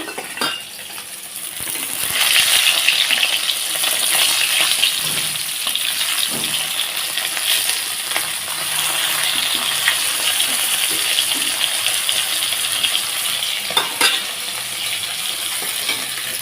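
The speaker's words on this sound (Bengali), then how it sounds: "মাছগুলো আমি কি সুন্দর করে ভেজে নিচ্ছি" Fish fry in hot oil with a steady, bright sizzle that runs throughout, punctuated by occasional clinks and scrapes as pieces are lifted out one by one.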